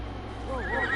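A horse in the Red Dead Online video game lets out a short, close neigh with a rising then falling whinny, heard alone over a low steady background hum.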